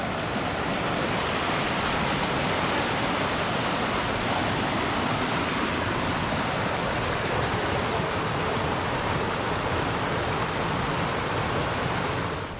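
Continuous rushing water pours steadily, a dense, close hiss of a small waterfall near Dream Lake in Rocky Mountain National Park, with no pauses or voices.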